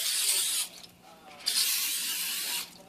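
Cooking spray hissing onto a cookie baking pan in two sustained close bursts, loud and steady, separated by a short pause, no talking.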